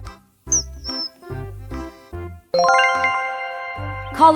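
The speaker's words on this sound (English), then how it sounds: "Collared kingfisher." Collared kingfisher calls: a series of short, separated notes in the first half, then a sustained bright, harmonic ringing tone that continues to the end, clear and close.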